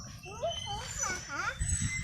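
A dog whimpers in several rising, high-pitched whines close by, with people talking around it.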